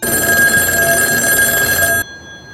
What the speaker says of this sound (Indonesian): tiba-tiba telepon di kamar berdering dari meja lobi